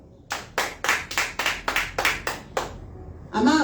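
Eight distinct hand claps at a steady, unhurried rhythm, fairly close and clear, from a church congregation during a worship service, followed by a short burst of voice at the end.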